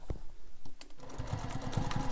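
A sewing machine stitches a seam on a carryall bag, starting after a short pause and then running as a steady, rapid mechanical patter at close range.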